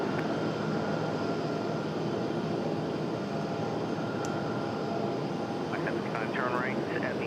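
Aircraft departing at RDU airport, a steady low jet engine roar throughout, under faint radio-style talk toward the end.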